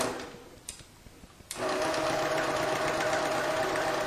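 A Janome 1600P sewing machine on a quilting frame starts up after a quiet pause and runs steadily, basting down a quilt edge with a fast, even mechanical whir close by.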